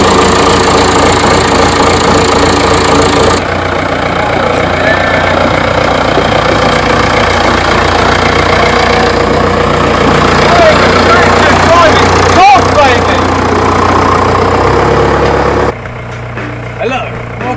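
A tractor engine runs continuously at a low, rumbling idle with a knocking, vibrating texture, close and loud, with a brief clatter partway through and a change in tone near the end.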